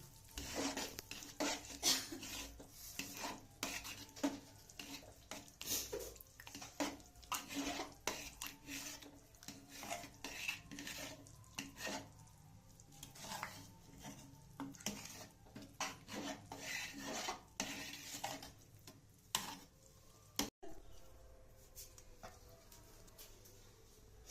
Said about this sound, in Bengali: এই মশলাটা দিলাম খিচুড়ির মধ্যে, এবার একটুখানি নেড়ে নিই।